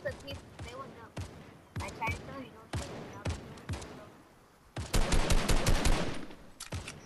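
Rapid bursts of gunfire in a video game, sharp repeated shots in short volleys and then a denser sustained burst, heard alongside players talking.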